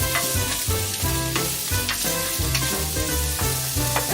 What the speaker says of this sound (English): what I want to do is kind of get these sweated down, these onions